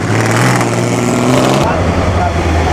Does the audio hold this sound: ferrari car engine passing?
yes